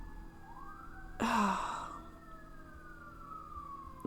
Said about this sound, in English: I have to wait for the sirens to conclude.